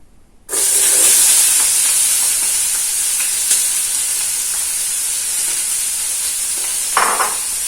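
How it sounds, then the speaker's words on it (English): Diced onions and green peppers hit hot oil with a sudden loud burst of sizzling that settles into a steady close frying hiss, broken by a couple of brief stirring scrapes. "After our oil is nice and hot, we're going to add in some diced onions and diced green"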